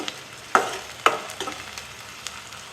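Chopped onions and green chillies fry in hot oil with a soft, steady sizzle, broken by a few sharp scraping stirs of a spoon in the pan.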